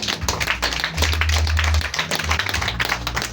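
A church congregation claps for Jesus, dense rapid applause from many hands, loud and close, with a low hum or music underneath.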